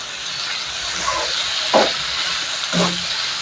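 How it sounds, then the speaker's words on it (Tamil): Tomatoes sautéing in a pan for an idli-dosa chutney give a steady, close hiss broken by a couple of brief scraping strokes of the spatula, with no talk. "தக்காளியுடைய பச்சை வாசனையும் போகணும் நல்லா வதக்கி விட்டுக்கோங்க"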